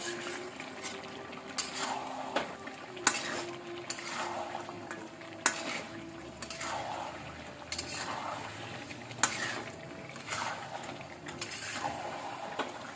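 Chicken leg pieces fry in a generous amount of oil with a low, steady sizzle, broken about every second and a half by a scraping stir stroke with clicks, nearby and moderately quiet.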